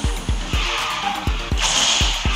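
A car slides through repeated drifts in Garena Speed Drifters on a space station track, rhythmic engine pulses under a sustained tire squeal that grows brighter midway, loud and close with no talking.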